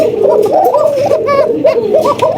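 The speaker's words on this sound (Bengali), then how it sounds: "এখানে কিন্তু রয়েছে আরো একটা ককা কবুতর" Pigeons cooing close by at a pigeon sale, soft repeated throaty warbles running continuously over a busy background.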